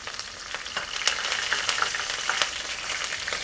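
Mustard seeds crackle and spatter in hot oil alongside frying chana dal, a dense stream of sharp, irregular pops over a steady sizzle, close and fairly loud with no voices.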